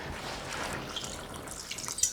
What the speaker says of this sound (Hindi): और थोड़ा सा पानी डाल के